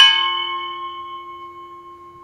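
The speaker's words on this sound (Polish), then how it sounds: "Teraz dzwon pomarańczowy." An orange tubular bell in an outdoor sound garden struck once, giving a bright metallic clang that rings on with a clear sustained tone, slowly fading over about two seconds, alone without talk.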